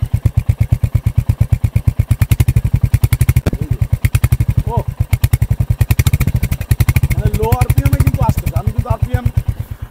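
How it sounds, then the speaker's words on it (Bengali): Royal Enfield motorcycle exhaust idling in neutral at low rpm, a loud, close and steady thump-thump rhythm that runs throughout, with a voice briefly heard over it. "নিউট্রাল সাউন্ডটা আপনারা শুনতে পাচ্ছেন।"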